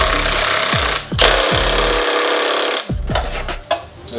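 Rusted 12 mm bolts being removed from a Subaru WRX/STI EJ-series engine with a power tool, bursts of buzzing, rattling impact-wrench hammering with brief pauses and falling tool whines in between, loud and close.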